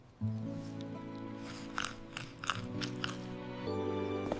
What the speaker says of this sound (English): Take small bites and chew carefully.